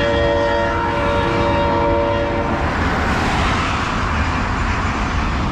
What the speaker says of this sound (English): Yeah, the train.